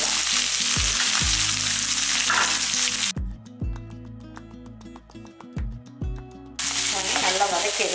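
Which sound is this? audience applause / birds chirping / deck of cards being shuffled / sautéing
sautéing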